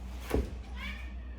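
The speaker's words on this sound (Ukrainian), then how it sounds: "Розумний котик, розумний. Ты разумный котик?" Domestic cat giving a short meow near a woman at home during the New Year holidays, a brief rising cry over low room hum.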